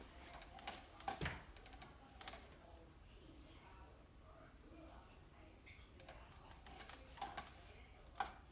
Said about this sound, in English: we're going to type in the camera's IP address